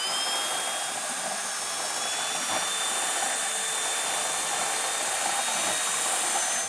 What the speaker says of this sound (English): So I'm using a burr bit on a drill.